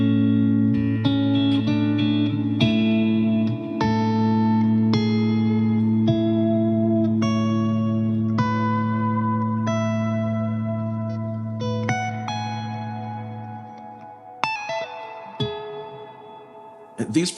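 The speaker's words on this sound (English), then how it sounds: "Distant Aura has this very long trails behind, which I really like" Electric guitar played through a Line 6 Helix Distant Aura reverb preset: simple sustained notes and short lead lines ringing out with long, washy reverb trails, close and clear with no talking.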